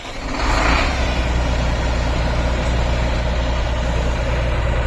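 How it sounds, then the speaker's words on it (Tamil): A new boom truck's engine cranks and catches, then settles into a loud, steady diesel idle with a deep low rumble that holds close and unbroken. "எங்கள் அண்ணன் இந்த வண்டி ஸ்டார்ட் பண்ணுறாரு."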